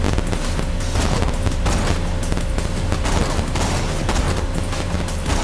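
Dense video-game gunfire in Borderlands 2 during a fight with Captain Flynt, a continuous loud barrage of rapid shots and booms with no pauses.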